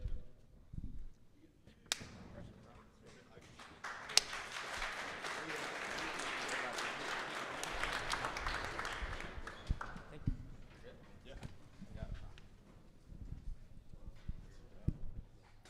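Live audience applause at a business mastermind event, clapping swelling for several seconds then fading into scattered claps, with a voice speaking before and after.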